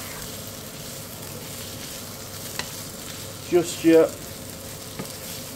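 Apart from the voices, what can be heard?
ginger and garlic frying, being stirred in pan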